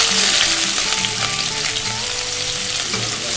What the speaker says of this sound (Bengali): তেলটা গরম হয়ে গেছে, তো প্রথমে আমি তেজপাতা দিয়ে দিচ্ছি, তারপর এলাচটা দিয়ে দিচ্ছি, এরপর আমি পেঁয়াজটা দিয়ে দিচ্ছি।